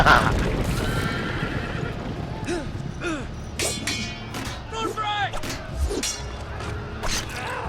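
Horse neighs and whinnies with clattering hooves in a Game of Thrones video game battle, several loud squealing calls over galloping and impacts, with shouting voices mixed in.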